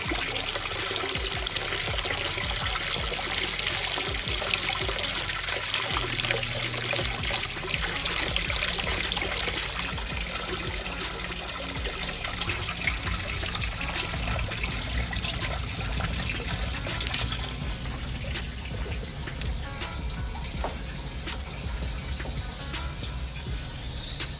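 Steady rushing, trickling water runs continuously with a hissy edge, lukewarm water draining at constant pressure while flushing a rumbling hot water tank, with no voices.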